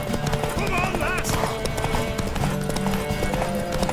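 A horse in The Witcher 3 gives a whinny over steady clip-clopping hooves, close and loud, with spoken dialogue and other game sounds mixed in throughout.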